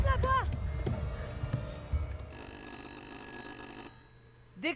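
In the horror video game Little Hope, a telephone rings in a sustained electronic trill partway through, heard under and between spoken game dialogue and other scene sounds.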